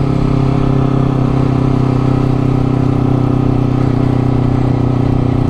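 A 2019 Honda CBR250RR motorcycle engine pulls steadily up a hill in third gear around 4000 rpm, a constant loud droning hum with no talk.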